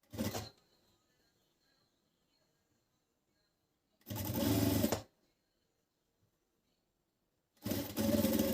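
A sewing machine runs in three short bursts while stitching a closing seam on a winter garment such as a tracksuit jacket or gallabiya, with quiet pauses between the loud runs.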